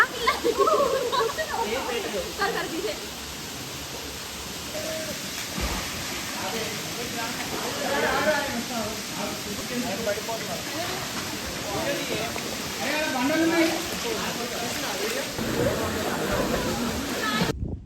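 A constant roar of a blue-water waterfall fills the scene, with voices faintly audible beneath the rushing wash.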